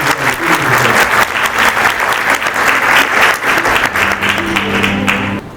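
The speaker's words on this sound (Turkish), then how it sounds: "Alkışlarınızla efendim Serdar Tuncer." Loud, close applause from a cultural-days audience welcoming Serdar Tuncer, rapid dense clapping with a crisp, busy texture that carries on strongly for the full length before cutting off sharply at the end.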